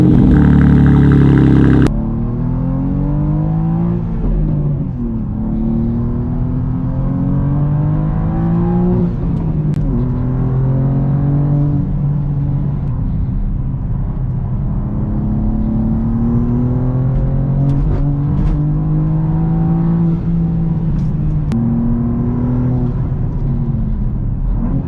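A 2023 BMW M2 G87 with manual transmission pulls away on a drive, its engine rising and falling through repeated acceleration sweeps and gear changes, loud and close, with no talking.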